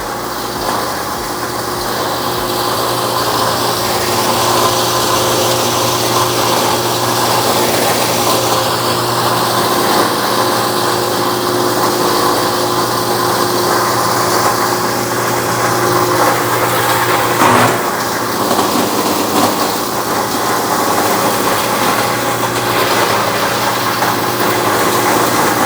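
A BDG Compact 1 mini granulator runs with its blower fan on, giving a steady, loud mechanical drone and whirring rush that holds nearly constant throughout, with no voices.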